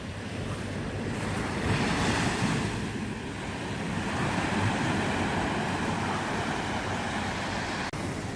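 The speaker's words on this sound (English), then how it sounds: "Plenty of white water breaking over there." Waves break on a shore as white water rolls in, a continuous washing roar with some wind buffeting the microphone, steady and moderately loud.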